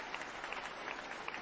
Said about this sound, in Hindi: सभी के नाम से जोरदार ताली होना चाहिए।